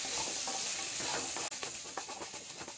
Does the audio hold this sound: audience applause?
no